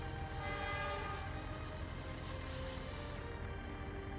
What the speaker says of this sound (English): It is my cement train.